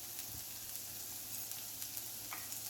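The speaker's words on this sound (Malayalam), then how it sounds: "ഉള്ളി സോട്ടായി വന്നിട്ടുണ്ട്. അതിലേക്ക് 1 ടീസ്പൂൺ മഞ്ഞൾ പൊടി ഇട്ട് കൊടുക്കാം." Onions sauté in a pan with turmeric powder for a punarnava leaf thoran, giving a faint, steady sizzle that continues evenly throughout with no voices.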